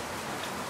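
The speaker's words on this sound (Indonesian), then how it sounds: "Hujan." Rain falls in a steady, soft hiss that stays even through a very short moment, fairly faint, with no voices over it.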